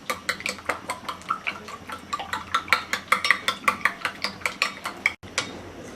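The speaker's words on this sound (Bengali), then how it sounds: "এবার ডিমটাকে ফেটিয়ে নেব।" Eggs with food colour are beaten in a bowl, a fast regular series of sharp clinking strokes, about four per second, close and clear, with a brief pause near the end.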